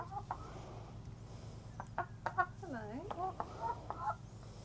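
Rescued chickens on a homestead clucking close by, a run of short chattering clucks and one drawn-out rising and falling call, with a person speaking softly to them between the sounds.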